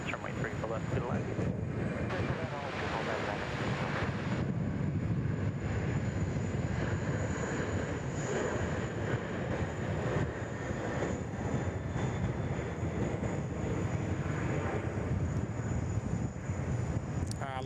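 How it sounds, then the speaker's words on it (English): Airbus A330 departing Sydney Airport, a continuous roar of jet engines with wind noise on the microphone, steady and moderately loud throughout, with people talking underneath. "I love the A330 departures."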